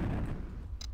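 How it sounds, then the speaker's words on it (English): A torpedo strikes a ship in the space combat game Escape Velocity Override, a dense low rumbling blast that fills the whole second, with a short bright electronic tone near the end. "we got hit by a torpedo and lived."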